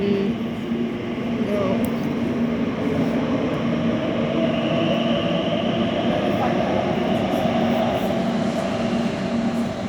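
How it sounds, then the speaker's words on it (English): An Elizabeth line train pulls out of the station, a steady loud rumble and hum of rail wheels and motors filling the whole stretch, with a brief voice at the start. "There's that train leaving."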